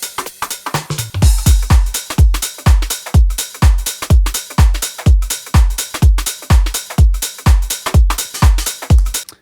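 A house drum groove repeats at a steady tempo, with a booming kick landing on every beat alongside crisp hats and percussion, playing loud and alone after a brief quieter start.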